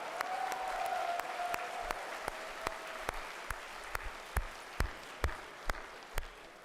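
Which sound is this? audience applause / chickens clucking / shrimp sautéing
audience applause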